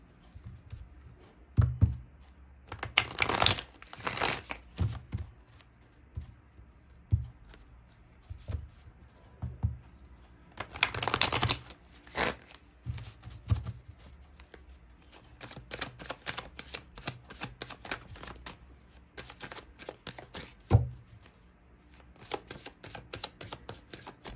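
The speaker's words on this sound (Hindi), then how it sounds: "चलिए पुराने इस डेक से भी कुछ कार्ड्स लेंगे।" An old deck of tarot cards being shuffled up close, with two loud bursts of riffling near the start and middle, surrounded by scattered soft taps and card handling, with no talk.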